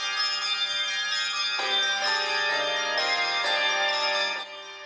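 A handbell choir rings several bells in a melodic sequence, their clear tones overlapping and sustaining, played close and fairly loud without talk.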